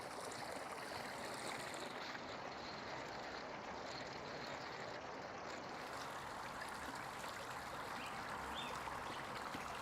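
Water pours steadily over daffodil bulbs in a pot by a front door, a continuous even splashing hiss that holds at a moderate level throughout, with no talking.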